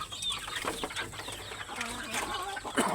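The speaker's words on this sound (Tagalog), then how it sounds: "Ang daming manok mga idol." Chickens cluck and call close by in a farmyard, several birds overlapping in uneven bursts against a busy outdoor background.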